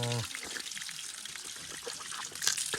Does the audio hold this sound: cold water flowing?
yes